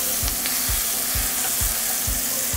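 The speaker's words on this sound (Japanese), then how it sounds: "まだお肉が少し赤い状態の時にくし切りにした、トマトも入れます。" Beef and tomato wedges stir-fry in a pan with a loud, continuous sizzle, punctuated by regular low thumps about every half second as the food is tossed and stirred.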